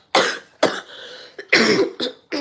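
A person coughs repeatedly, about six harsh coughs in uneven bursts, close and loud.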